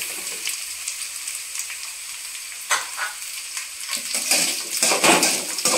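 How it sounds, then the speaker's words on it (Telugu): Vegetables and sweetcorn kernels fry in oil for fayde rice, a constant sizzle broken by spatula scrapes and stirring clatter that grow louder toward the end. "ఈ వెజిటేబుల్స్ అన్నీ కొద్దిసేపు ఆయిల్లో బాయిల్ అయిన తర్వాత సో ఈ స్వీట్ కార్న్ గింజలు అయితే కూడా కొద్దిగా అందులో వేసుకునేయాలి"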